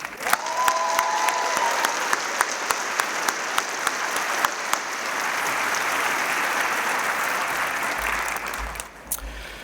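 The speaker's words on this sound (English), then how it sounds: "let's give her another applause" A graduation convocation crowd at Palmer College of Chiropractic claps steadily for about nine seconds, a dense, fairly loud wash of applause with a brief cheer near the start before it fades out.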